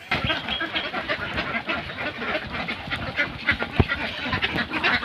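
Ducks on a small hobby duck farm quack in a steady, scattered chorus, moderately close, with a faint voice now and then beneath the calls.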